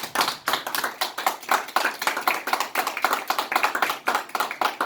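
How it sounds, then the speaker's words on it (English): An audience honoring a veteran colonel, a national record holder for 697 combat missions, claps steadily with distinct, closely spaced hand claps that keep an uneven rhythm for several seconds, close and fairly loud, with no talking over them. "we clap and honor you"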